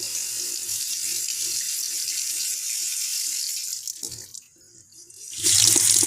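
A faucet runs steadily for handwashing, hissing close and even, then cuts off briefly before gushing back louder near the end.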